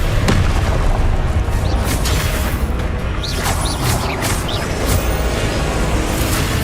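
A loud, dense run of Confringo spell explosions in Hogwarts Legacy, booming blasts and crackling bursts piling on one another without a pause.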